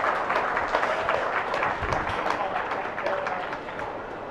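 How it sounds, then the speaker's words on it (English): A crowd at a 4-H/FFA swine showmanship event applauds the intermediate division champion, a steady wash of clapping with talk mixed in beneath it. "Let's give her a big round of applause."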